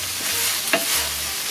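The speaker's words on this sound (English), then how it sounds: "I love hearing the sizzle, which kind of cooks the vinegar out of the ketchup." Ground beef and ketchup sizzle steadily in a pan while being stirred, a constant frying hiss broken by a few scraping stirs, close and fairly loud with no talking.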